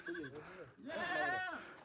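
A goat bleats with a wavering, nasal cry while being milked in a Maasai setting in Tanzania, fairly close, amid soft background sounds.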